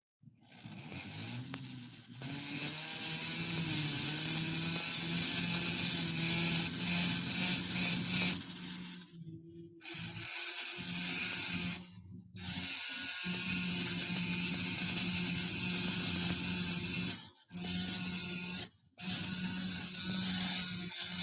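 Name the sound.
rotary tool with 80 grit burr carving fire agate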